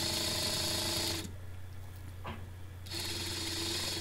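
A sewing machine tacks the shoulders and neckline of a men's button-down shirt at a quarter-inch: a close, steady whir runs about a second, stops briefly, then resumes, with no one talking.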